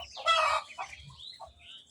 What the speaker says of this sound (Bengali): এই হচ্ছে আমার পিকিং স্টার 13 হাঁসের বাচ্চা, বয়স আছে 11 দিন।